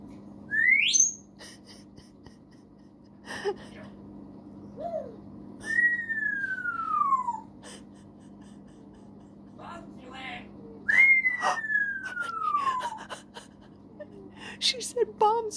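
An African grey parrot at home at night gives a few long, sliding whistles and short chirps, spaced several seconds apart over a low steady room hum, near and clear.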